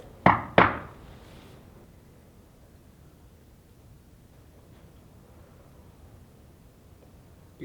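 Two sharp, loud knocks close together open a hushed ghost investigation at the Goldfield Hotel, answering a request for knocks, followed by several seconds of near-silent room tone with a faint tap.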